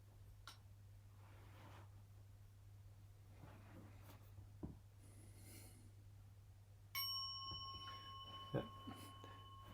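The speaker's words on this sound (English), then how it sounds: "I'll get my little bell." Small meditation bell struck once in a quiet room, a clear ringing tone that sustains and slowly fades over the last few seconds, close and faint, following near-silence with a steady low hum underneath.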